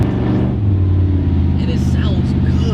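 A copper-colored Buick Grand National rumbles steadily while driving, its exhaust low and throaty from beneath the seats, a constant loud drone with a short lift in revs partway through.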